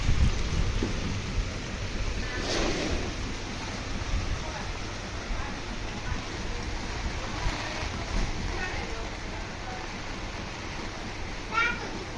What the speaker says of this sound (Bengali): অনেক জোরে বৃষ্টি আসছে বলা যায় এখন